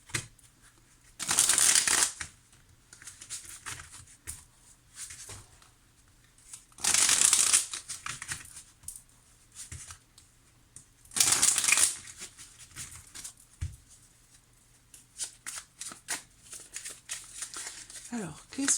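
Tarot cards are shuffled in three loud, crisp riffling bursts separated by quieter handling rustles and soft taps, close up.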